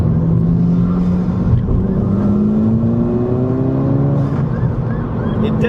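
A VW Golf GTI fitted with a Race Chip XLR throttle tune pulls hard in third gear on an open road, its engine droning steadily and climbing in pitch throughout, loud and close from inside the car.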